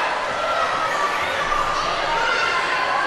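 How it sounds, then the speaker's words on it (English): A wrestling crowd at an independent show heckles Dylan Kage with a continuous roar of jeers and shouting voices, loud and dense for the whole moment. "Now the crowd giving a piece of business to Dylan Kage right there"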